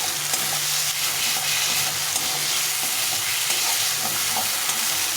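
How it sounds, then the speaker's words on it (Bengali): Mashed taro (kochu) fried and stirred in a pan over raised heat, giving a loud, continuous sizzle and hiss with faint stirring scrapes underneath, and no talk. "এখন এটাকে ভালো করে নেড়ে নেবে ভেজে নিতে হবে"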